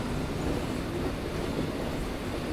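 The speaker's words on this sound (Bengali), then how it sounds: "এই সাইডে একটা ট্রেন ঢুকছে" A local train on the Howrah to Bandel line rolls into a station on a rainy morning, giving a steady low rumble and rattle of wheels with no break across the short stretch.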